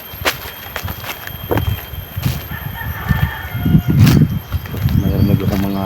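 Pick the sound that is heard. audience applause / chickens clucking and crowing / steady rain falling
chickens clucking and crowing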